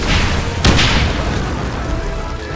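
A grenade goes off in the 2009 Wolfenstein shooter: one loud, sharp blast that rolls into a long fading rumble over steady game background noise.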